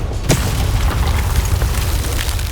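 A Bombarda spell explodes in the video game Hogwarts Legacy: one sharp, loud blast followed by a deep, rumbling boom that lingers for a couple of seconds.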